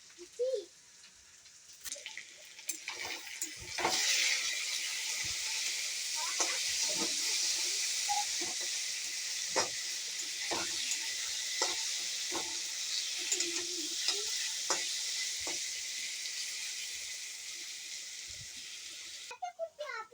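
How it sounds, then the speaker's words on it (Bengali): Potatoes fry in a pan with a soft, continuous hissing sizzle that holds steady for the whole stretch. Scattered clinks and clicks from the cookware sound over it, and a faint voice is heard now and then. "আলু ভাজা প্রায় হয়ে আসছে।"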